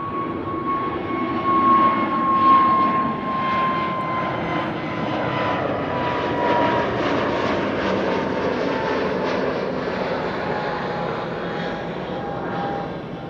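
An EasyJet airliner roars through its takeoff, a steady loud jet engine rumble with a high whine, swelling near the start and holding strong for several seconds before easing slightly.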